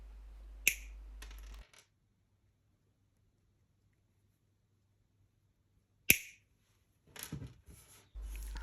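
Wire cutters snipping jewelry wire, two crisp close snips several seconds apart with light handling noise after the second, near silence between.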